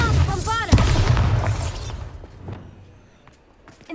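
Bombarda explosion spell cast in the wizarding game Hogwarts Legacy, a sharp booming blast with shimmering magical sweeps that rumbles and fades, preceded by spell effects and a voice speaking.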